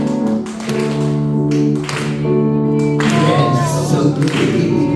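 An audience at a hospital laughter event claps along in time over sustained music. The claps land as sharp, regular beats, with a brief pause partway through.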